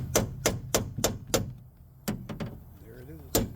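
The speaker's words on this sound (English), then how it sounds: "I'm just going to use a little smaller punch to knock it all the rest of the way through" A small metal punch is hammered to drive out an automotive rivet: a quick run of five sharp, ringing strikes, then a few more spaced blows, close and loud, with some talk in between.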